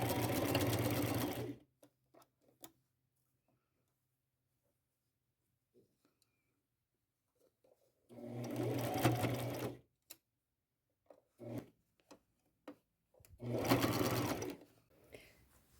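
Three separate bursts of a sewing machine stitching a seam on a white shirt, each a fast steady run of close, loud mechanical whirring, with quiet gaps and small clicks between them.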